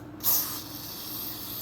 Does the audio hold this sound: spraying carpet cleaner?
yes